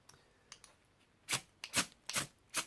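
A US military-issue ferrocerium rod struck from a BOSS fire kit, several sharp rasping scrapes in quick succession, close and fairly loud against quiet.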